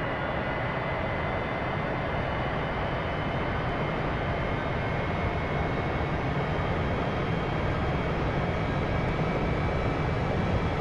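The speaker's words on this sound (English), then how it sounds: "Cleared for takeoff runway 0, 1" Emirates airliner roaring down the runway on takeoff, a dense, steady broadband engine roar filling the whole stretch at constant loudness with no voices.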